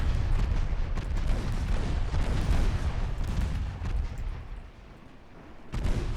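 A torpedo strikes a light cruiser in a naval battle in Ultimate Admiral Dreadnoughts, heard as a heavy, rumbling series of booms and thuds that eases briefly before another dull impact near the end.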